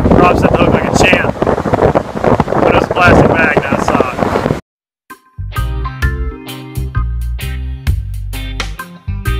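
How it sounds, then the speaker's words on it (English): Heavy wind buffets the microphone with a loud, rough roar under a voice at an outdoor kayak fishing spot, then cuts off abruptly and music takes over. "It's too windy for the kayaks."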